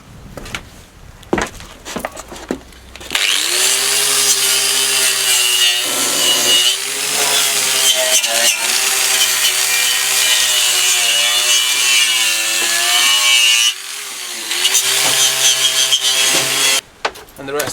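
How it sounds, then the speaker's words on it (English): Wire brush on an angle grinder scouring a metal front bumper bracket from a Talbot Express motorhome, a loud sustained abrasive whine broken by short pauses, with a brief tap and a restart near the end. "Just giving it a bit of a brush down with the wire brush on the grinder"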